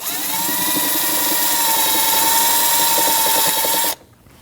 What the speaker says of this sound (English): Then loosen your bolt.